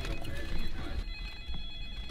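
A telephone rings in the Scream horror film with bright, repeated electronic tones over a low room background before the ringing cuts off.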